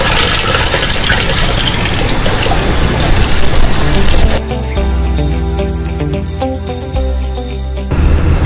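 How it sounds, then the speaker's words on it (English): A water pump starts up at a mineral processing facility, sending water rushing through a particle-separating system. A steady hum with flowing water runs throughout, and the tone shifts partway as the pump settles into a continuous drone. "first you gotta turn our water pump on so we can get the water flowing through the system"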